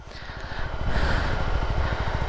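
A brand-new Sifir SR250 motorcycle pulls off as the clutch is released, its engine note rising steadily to a loud, close, continuous rumble with no talk over it.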